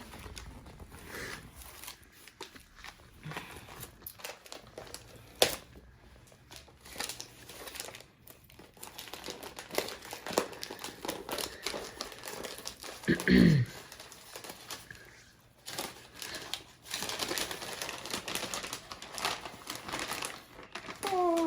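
A gift package for a fifth wedding anniversary being unwrapped, its wrapping paper crinkling and rustling in uneven bursts over about twenty seconds, close by, with occasional voices in the background.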